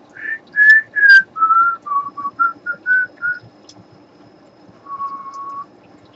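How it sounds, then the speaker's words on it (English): A person whistles a short melody of about ten clear, bright notes in quick succession, then pauses and holds one longer, steady note, all close and alone with no talking. "Can you whistle?"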